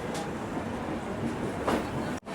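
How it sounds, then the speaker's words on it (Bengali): A train pulls out of New Delhi bound for Katra, giving a brief, fairly quiet, steady rolling rumble with faint track noise. There is no talk, and the sound cuts off abruptly at the end. "একদম রাইট টাইম, মানে 7:05-এই আমাদের ট্রেনটা ছেড়ে দিল কাটরার উদ্দেশ্যে।"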